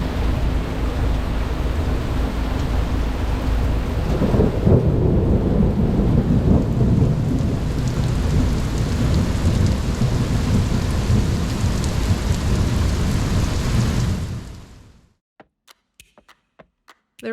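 Heavy rain pours down steadily during a thunderstorm off Curaçao, with low rumbling thunder mixed into the loud, dense wash of rainfall before it cuts off abruptly near the end, leaving only a few faint clicks.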